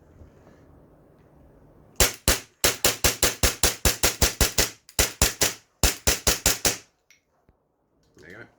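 A Tokyo Marui M&P9 airsoft pistol with a match slide and match trigger empties its magazine in three quick bursts of sharp, loud, close cracks, roughly twenty shots in all, with short pauses between the strings.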